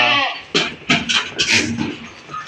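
Goats and young kids on a goat farm bleat repeatedly in overlapping, closely spaced calls, loud and near.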